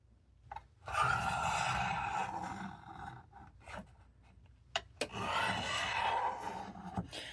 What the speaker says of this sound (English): I need to stand up while I do this sharpening to get the best leverage